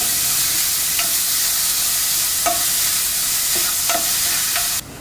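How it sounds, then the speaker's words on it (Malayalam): Grated carrot sautéing in a pan for carrot payasam, a steady frying sizzle with a few light clicks of stirring, no talk. "നമ്മൾ ഗ്രേറ്റ് ചെയ്ത് വെച്ചിരിക്കുന്ന ക്യാരറ്റ് ഇട്ട് നന്നായിട്ട് വഴറ്റുക."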